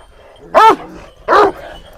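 Two loud, close barks from a Kangal shepherd dog in a village, evenly spaced about a second apart, with no voices over them.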